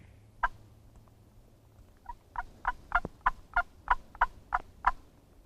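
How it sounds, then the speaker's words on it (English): A series of about ten rapid, rhythmic wild turkey gobbles rings out clearly in Georgia, building in loudness and then holding steady, with no voices present. "We hear a couple gobbles."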